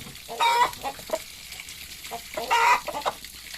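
Hens cluck in two short bursts, fairly close, as they are being wetted with water, with scattered softer clucks and light background rustle between them.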